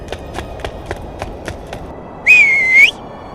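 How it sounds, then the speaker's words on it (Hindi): A single sharp, sustained whistle rings out near a riverbank, loud and close, following a run of quick, rhythmic footfalls. "और 3 बार सीटी बजाया"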